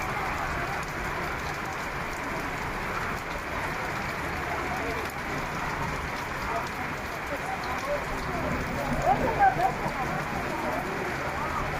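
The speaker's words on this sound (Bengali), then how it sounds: "প্রচণ্ড বৃষ্টি হচ্ছে" Dense, steady downpour in Dhaka hisses continuously, with a few faint bird calls and scattered louder splashes near the end.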